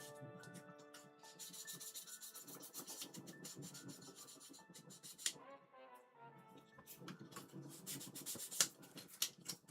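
Sandpaper rubbing on a plastic model kit, a steady close scratchy rasp with repeated strokes, a short pause midway, then more brisk sanding.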